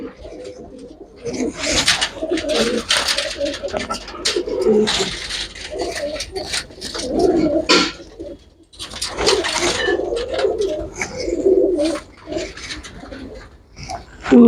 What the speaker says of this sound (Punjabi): ਕਾਲੀ ਚੀਨੀ ਕਬੂਤਰੀ ਹੋਈ ਹੈ